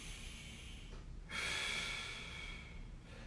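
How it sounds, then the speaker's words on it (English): One long, deep inhale through the nose during a foam-roller back mobility exercise. It begins with a soft breathy onset and swells into a steady airy rush lasting about two seconds, close and alone. "we're just taking a nice deep breath in."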